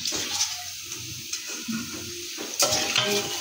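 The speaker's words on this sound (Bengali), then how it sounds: "তাহলে হালকা করে ভাজে নিয়েছি, তো এখন নামাই নিই।" Pitha fries lightly in a pan in a home kitchen, a soft steady sizzle with occasional stirring and scraping sounds, close by, ending with a brighter clatter as the utensil moves, with no voices.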